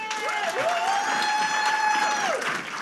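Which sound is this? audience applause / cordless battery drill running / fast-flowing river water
audience applause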